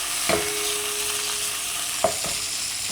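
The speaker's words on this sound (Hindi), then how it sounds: "कितना अच्छा फ्राई हो रहे हैं।" Food fries in a pan for a gravy dish, a steady, fairly loud sizzle throughout with two soft stirring knocks from a utensil, and no talking.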